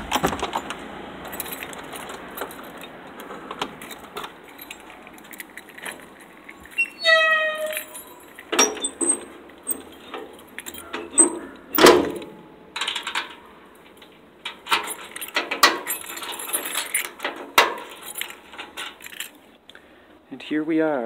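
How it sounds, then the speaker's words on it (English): A bunch of keys jangles and rattles close up as a house door is unlocked and opened, with scattered metallic clinks and clicks over several seconds and a faint voice at times. "Let's see if I still know how to open this door."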